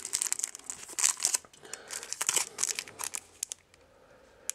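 Panini Champions League 2014/15 sticker packets being torn open and handled: close, bursty crinkling and ripping of foil wrappers in quick irregular bursts, easing off toward the end.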